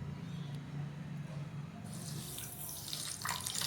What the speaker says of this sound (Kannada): ಮುಕ್ಕಾಲು ಕಪ್ಪಿನಷ್ಟು ಸಕ್ಕರೆ ತೊಗೊಂಡಿನಿ ಅರ್ಧ ಕಪ್ಪಿನಷ್ಟು ನೀರು ಹಾಕ್ತೇನೆ ರೀ